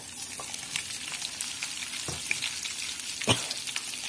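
Cumin seeds and roughly chopped onion fry in hot oil in a pan, a steady close sizzle with a couple of brief stirring clinks, heard alone without speech.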